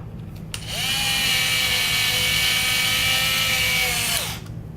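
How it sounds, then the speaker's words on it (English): An electric screwdriver drives screws while an XIC 5 1/2 unit is installed, a loud, close motor whine that spins up, holds steady for about four seconds with a slight pitch drift, then winds down. "But I'm using an electric screwdriver, and I'm really not tightening up everything."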